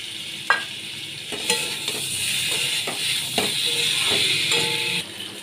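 Prawns go into a sizzling pan of elephant foot yam curry with sugar, giving a steady close hiss broken by clinks and scraping stirs, with a brief bump near the start.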